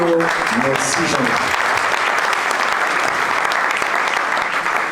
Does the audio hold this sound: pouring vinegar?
no